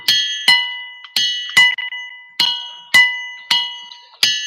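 Ringing rocks struck about eight times at a steady, unhurried pace, each hit a clear metallic, tubular-bell-like chime that rings out and decays before the next, close and fairly loud.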